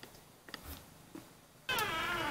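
A cat meows once near the end, a clear, fairly loud drawn-out call after a stretch of quiet outdoor background with faint scattered sounds.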